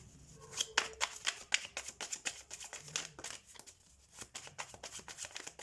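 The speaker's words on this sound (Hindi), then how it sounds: "मैं कार्ड्स निकाल लेती हूँ" Tarot cards are drawn and shuffled from a deck, a close series of quick papery flicks, slaps and riffles in an uneven rhythm, fairly quiet.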